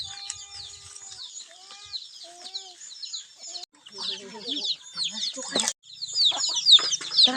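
Chickens cluck and chirp in short, scattered bursts, with quieter stretches and a few louder calls near the end.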